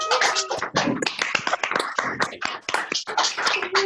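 An audience breaks into a round of applause for the trackers, with dense, close, uneven clapping filling the whole short stretch and no talk over it.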